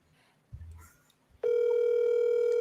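A phone call is placed to another person: a couple of soft handling clicks, then a loud, steady electronic ringback tone that holds without a break to the end.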